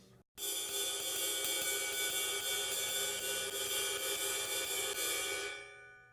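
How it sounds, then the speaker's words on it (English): A ride cymbal plays a steady, repeating Latin jazz ostinato pattern, its shimmering wash sustained throughout before fading out at the end. "we have a pattern on the ride cymbal now, repeated over and over"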